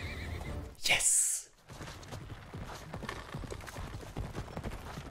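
A horse whinnies loudly and shrilly, then hooves clatter in a steady clip-clop under busy background noise, with a brief shout, in a film scene from Bahubali: The Beginning.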